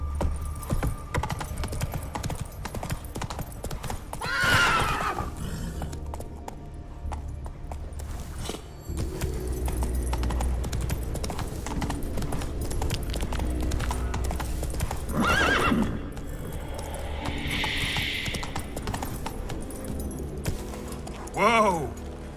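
Roach, a horse in The Witcher 3 video game, trots with steady clip-clop hoofbeats, snorts and whinnies several times, with tack jingling and a low rumble beneath.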